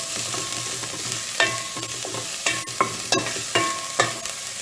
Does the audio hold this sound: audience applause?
no